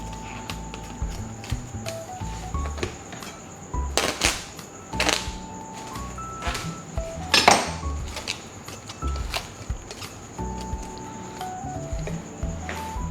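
Marinated beef bistek being covered before going into the fridge, with clinking of dishes and lid against a container and handling knocks in scattered bursts, close, over a steady faint hum.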